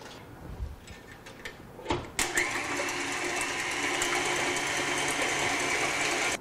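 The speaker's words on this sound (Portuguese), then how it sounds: "a segunda etapa, nós vamos bater a clara em neve, só que com açúcar" A few faint clicks and handling sounds come first, then an electric mixer starts up and whirs steadily and fairly quietly while beating egg whites with sugar into meringue for a gluten-free carrot and hazelnut cake.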